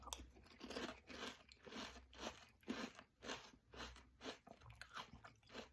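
Crunchy Peanut Butter Chex cereal in milk being chewed up close, with loud, steady crisp crunches repeating in a quick rhythm and no talking.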